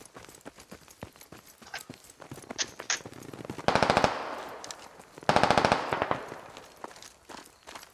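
Rapid automatic gunfire from the tactical shooter game Squad, with two sustained loud bursts standing out over scattered sharper single shots and distant crackling throughout, no voices.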